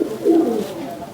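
Old breeder pigeons, about seven or eight years old, coo on a rooftop in one short, close, soft throaty call.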